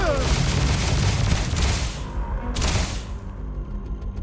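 EM rifle fire in the No Man's Skyrim video game, a loud rapid barrage of shots and booms that cuts off, then one more burst before fading.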